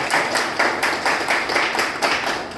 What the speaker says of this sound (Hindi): तालियां जोरदार सभी के लिए एक बार जबरदस्त।